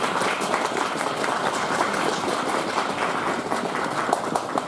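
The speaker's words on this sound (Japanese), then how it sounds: "皆様盛大な拍手をお願いいたします" Sustained applause from a crowd at a maiko dance offering at Yasaka Shrine in Kyoto, steady and dense clapping throughout with no talking.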